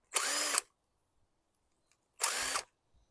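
A DeWalt power drill backs out carburetor bowl screws on a 2022 Craftsman M100 walk-behind lawn mower, with two short, loud whirring bursts about two seconds apart and quiet between them.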